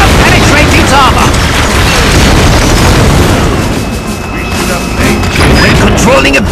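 Bazooka fire and explosions in the video game Battalion Wars 2, with loud, dense booms and crashing blasts over a constant battle din and game music, under a narrating voice.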